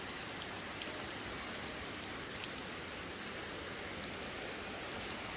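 Steady rain pours down outdoors on a night in rural Thailand, a dense, even hiss with scattered drops tapping on a surface, continuous and fairly close with no voices.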